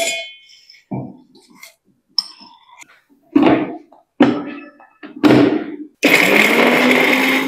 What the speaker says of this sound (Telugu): సో దీన్ని ఇప్పుడు మనం మిక్సీ వేసుకుందాము.